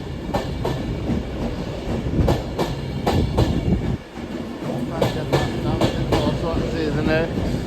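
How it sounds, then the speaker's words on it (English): Avanti West Coast train pulling into Carlisle station, loud and near with rhythmic wheel clatter over rail joints, a steady rumbling roar and brief squeals, with people talking over it. "Also arriving in behind is a Avanti West Coast service off to London Euston."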